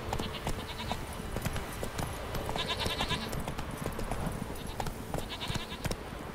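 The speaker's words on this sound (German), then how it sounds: "Ziegen gibt's hier." Goats bleat in The Witcher 3 open world, a few faint bleats scattered over steady busy ambient game sound with footsteps and clatter.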